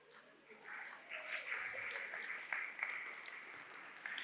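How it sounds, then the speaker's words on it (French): An audience at a talk sharing field experiences applauds with soft, fairly distant clapping that swells after a quiet start and continues steadily to the end, with no voices over it. "Alors, on va vous applaudir."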